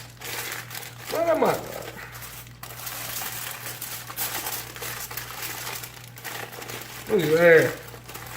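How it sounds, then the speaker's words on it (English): Aluminium foil crinkles and rustles in bursts as it is wrapped around an object, close and fairly loud, under someone talking and a faint steady hum. "I'm going to put another piece of foil around it"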